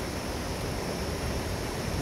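A small mountain stream in Nepal, a trout-fishing river, rushes steadily with continuous broadband water noise and a touch of wind, no voices over it.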